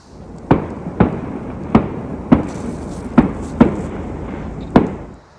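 Fireworks bursting at night beside a lake, seven sharp loud bangs spaced irregularly about half a second to a second apart, each with a short echoing tail over quiet outdoor ambience.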